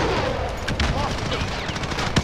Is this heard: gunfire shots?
yes